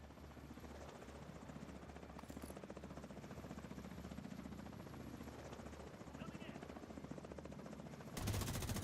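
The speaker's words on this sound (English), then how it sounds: "Enemy helicopter approaching." A hostile helicopter in a shooter video game drones steadily with a rapid rotor chop, mixed with bursts of gunfire, ending in a louder noisy swell.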